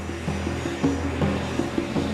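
A US Air Force A-10 attack jet's engines drone steadily with a rumbling roar, a continuous mid-loud aircraft engine sound with slight swells and no talk.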